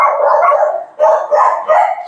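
Dogs barking and howling close by in a home with an open-space rear extension, a loud, continuous chorus of overlapping barks and yips with a brief dip near the middle.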